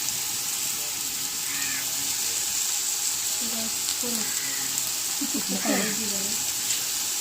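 Chicken pieces fry in a pot for biryani with a steady, loud sizzling hiss throughout, broken by a few scraping stirs and clinks of the spoon near the end.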